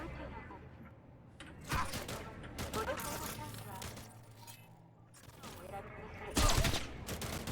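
Gunfire in the video game Cyberpunk comes in scattered bursts and single sharp shots at moderate distance, mixed with voices and other game noise.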